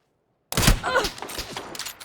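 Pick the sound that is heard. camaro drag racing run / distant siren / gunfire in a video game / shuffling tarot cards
gunfire in a video game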